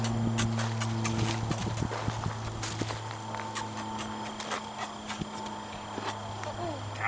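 A horse's hooves step backward as it is backed up, with irregular clip-clop footfalls on the ground, close by, under a steady hum and occasional talk.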